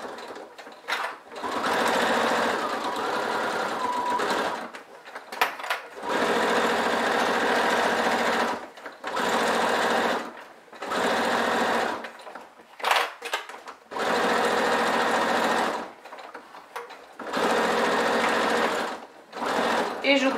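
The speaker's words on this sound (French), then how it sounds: "je vais faire une couture au point droit à 1 cm du bord sur ce côté" A sewing machine runs straight-stitch seams along the edge of a clear plastic toiletry pouch, its fast whirring motor coming in several bursts of a few seconds, separated by short pauses.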